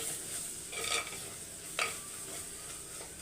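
Spoon stirring chili powder into a frying fish curry masala, a soft steady sizzle under two distinct scraping clinks against the pan, close and fairly quiet.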